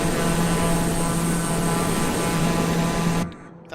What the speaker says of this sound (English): now you'll notice the sound of the engines is much different from my usual stream